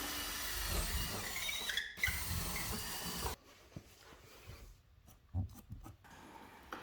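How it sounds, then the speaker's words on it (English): A power drill with a long bit bores straight through a house wall while fitting a cat door, a loud grinding whir that stops abruptly, followed by quieter scraping and knocks. "I'm just using a long drill bit and drilling straight through."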